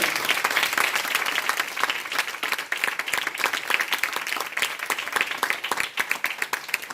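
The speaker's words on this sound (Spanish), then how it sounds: "Denle una ofrenda de aplausos al Señor." A church congregation gives a sustained round of applause to the Lord, many hands clapping densely and evenly throughout, with no speech over it.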